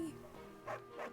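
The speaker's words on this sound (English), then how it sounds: "Bark, bark!" Quiet dog barks sound from the video game Fire Emblem: Three Houses, a few short yapping barks in quick succession at a low level.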